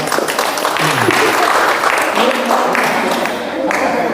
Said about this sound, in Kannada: ಅವರಿಗೆ ಬರಲಿ ಜೋರಾದ ಚಪ್ಪಾಳೆ